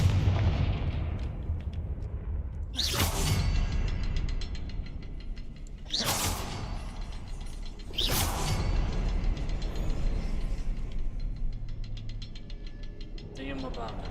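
Three loud Confringo explosive spell blasts burst out in Hogwarts Legacy, spaced a few seconds apart, each a sharp crack that fades over a constant, dense game background.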